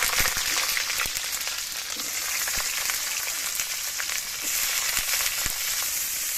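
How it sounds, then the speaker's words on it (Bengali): Mixed vegetables (beans, carrots, peas and cauliflower) fry in white oil in a wok, giving a dense, steady sizzle with a few soft ticks and stirring scrapes close by. "কড়াই দিয়ে দেবো সাদা তেল, সবজিগুলো দিয়ে ভেজে নেব।"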